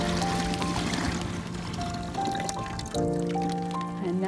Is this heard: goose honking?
no